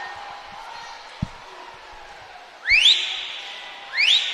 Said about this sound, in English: You guys hear that annoying whistle in the background?